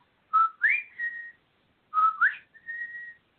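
A person whistles in imitation of birdsong during a ceremony: two matching phrases of short rising and sliding whistled notes, each ending in a held tone, clear and close with silence between.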